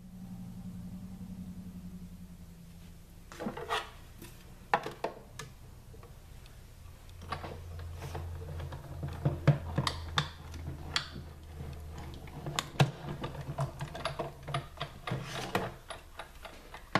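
A Big Shot die-cutting machine with a magnetic platform cranking through several pieces at once, a run of clicking, ticking turns over a low mechanical rumble, close and clear.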